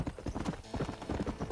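Horse hooves clip-clop at a steady trot on a dirt path in the video game Red Dead Redemption, fairly close and alone with little other sound.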